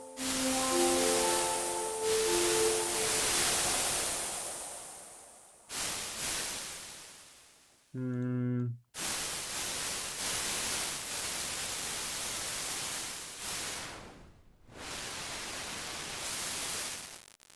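Loud synthesized noise from the Zebra3 synthesizer's noise generator hissing and roaring, shifting in tone with abrupt cuts and a brief buzzy pitched burst midway.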